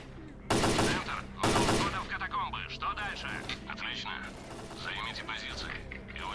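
Gunfire in S.T.A.L.K.E.R.: Clear Sky: two loud, close broadband shots or short bursts near the start, followed by a busy game soundscape with chirpy radio-like chatter and mechanical clicks, no clear voice on top.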